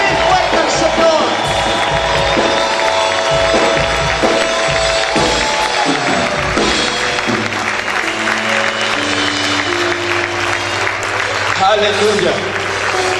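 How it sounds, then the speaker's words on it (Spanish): A church congregation claps and shouts loudly in praise, sustained applause and cheering with whoops filling the room while a voice calls out over the crowd and music plays underneath. "Grita y aplaude fuerte a tu Señor."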